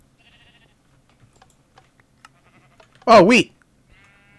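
A sheep in the video game Minecraft gives one short, loud, wavering bleat, standing out against faint clicks and quiet background sounds.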